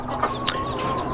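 Chickens and a blue rooster cluck softly and close by in a farm setting, with short calls rising over a steady background hum.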